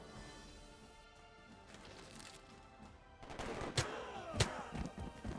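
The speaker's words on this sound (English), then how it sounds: "Now that we've attacked with our riflemen," Rifle volleys from an infantry unit attacking in Civilization V, a burst of crackling gunfire with sharp bangs that kicks in after a few seconds of quieter game ambience and stays loud to the end.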